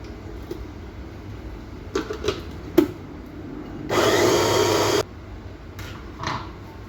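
A kitchen grinder whirs in a single loud, steady burst of about a second, pulverizing green chili for chili garlic oil. Quieter handling knocks and clatter come before and after it.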